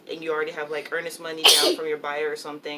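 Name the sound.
sneeze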